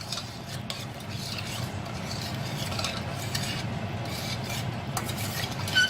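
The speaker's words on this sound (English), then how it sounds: "Now you stir all your ingredients together." Ingredients for a mumbo sauce with tomato paste and red hot sauce are stirred together in a pot, a continuous soft scraping and rubbing of a spoon against the metal, close and steady with no voices.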